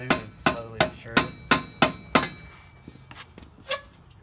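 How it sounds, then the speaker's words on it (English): A rubber hammer knocks a part of an axle dump exhaust pipe into place with about eight sharp, evenly spaced blows, followed by a few softer, scattered taps. "Might need to use a rubber hammer and try to knock it up into there."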